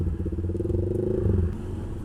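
A Honda PCX scooter ridden along a road in Makassar: a steady, close low engine drone with a slight rhythmic pulse and some road clatter, rising a little before easing off.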